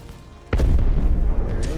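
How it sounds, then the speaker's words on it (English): A single deep, booming ship explosion in the space combat game Star Citizen, a sudden blast that keeps rumbling loudly after the initial hit. "There it is. Explosion."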